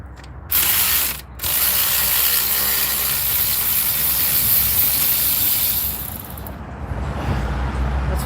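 Rapid ratchet clicking dominates as a socket wrench backs out the ignition coil bolts on a 2005 GMC Sierra, loud and close, with a short pause near the start and no talking.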